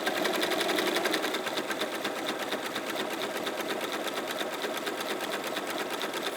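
A sewing machine runs steadily while stitching a fabric bag, a rapid even whirring chatter of the needle heard close and alone throughout.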